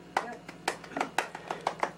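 Hand claps ring out during a band recording session in a studio as a song is tracked. Sharp single claps repeat at a steady rhythm, roughly two per second, close and fairly dry, with quiet room noise between them.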